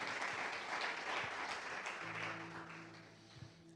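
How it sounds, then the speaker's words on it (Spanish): A church congregation gives a faint, steady wash of applause during a worship service that gradually fades, with a low hum underneath. "Dale un fuerte aplauso a Él en esta noche."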